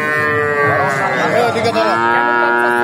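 A 2.5–3-month-old Holstein calf moos loudly and close up at a cattle market in one long, drawn-out bellow that wavers in pitch, with faint murmuring in the background.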